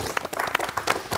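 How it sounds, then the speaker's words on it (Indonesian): Short burst of audience clapping at a Jawa Timur talk event on BPJS Ketenagakerjaan services, a brief moderate patter of hands with uneven rhythm. "Tepuk tangan dulu dong."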